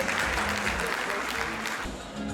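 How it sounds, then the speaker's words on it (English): A round of audience applause for the president at the GhIE 55th AGM awards and dinner night, a short, steady patter of clapping from the seated crowd that fades slightly toward the end. "Please another round of applause for our president."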